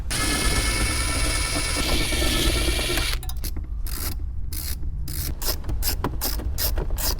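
A ratchet spins out 10 mm bolts holding a Toyota Corolla radio, heard as loud close rapid clicking, first as a steady buzzing run and then in choppy bursts, no talk.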